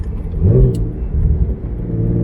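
A turbocharged BMW E36 engine runs and revs, a loud, steady low rumble that swells and eases through the clip with no voices over it.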